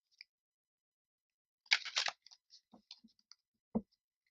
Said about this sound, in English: I'm having one more shuffle,